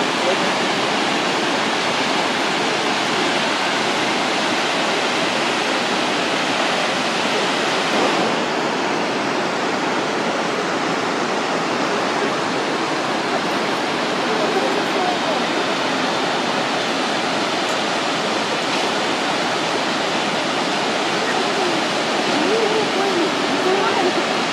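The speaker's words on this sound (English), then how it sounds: "Thankfully this time of year the falls have good water flow." Kegon Falls in Nikko, Japan, running at strong flow, gives a constant loud roar of falling water for the whole stretch, with faint voices lost beneath it.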